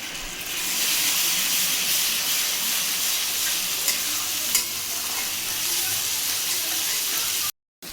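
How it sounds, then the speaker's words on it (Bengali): Ginger-chili paste frying in a hot pan, a loud dense hiss and sizzle throughout with occasional soft stirring scrapes, cutting out briefly near the end. "আদা লঙ্কা দিয়ে বাটা দিলাম। এবার একটু নাড়াতে হবে।"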